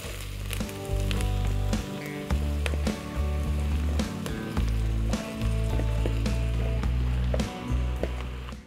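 Champignon mushrooms and onions frying in a pan, a continuous crackling sizzle punctuated by sharp clicks and scrapes, with a loud low hum running underneath in pulsing stretches.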